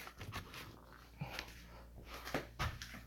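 Pet dog in a home office in South Florida giving quiet snorts, sniffs and soft whimpering noises in short bursts, faint and close with no talk.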